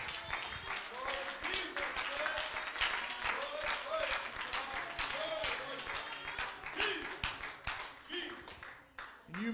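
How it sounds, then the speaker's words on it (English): A church congregation claps hands together in praise to Jesus, a dense, steady wash of many hands sustained for several seconds, with voices calling out over the clapping before it thins at the end. "Let's give a hand clap of praise to Jesus."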